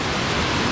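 Rushing waterfall in a Philippine canyon, a steady dense roar of falling water heard up close with no voices.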